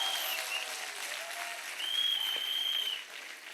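Audience applause fills a large event hall during a motivational speech, a steady dense clapping that swells briefly midway and then eases off, with no talking over it.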